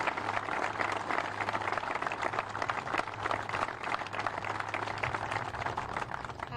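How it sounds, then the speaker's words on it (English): Sustained applause from a crowd at a flood disaster recovery update in Rock Valley, steady dense clapping filling the whole stretch with a faint low hum beneath. "let's just start with one more round of applause for all of the heroes that the mayor listed"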